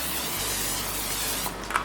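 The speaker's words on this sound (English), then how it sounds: "I'm gonna spray it with a little cooking spray." Cooking spray hisses from a can into a 13 by 9 inch pan in one continuous close burst that fades at the end, followed by a faint tap.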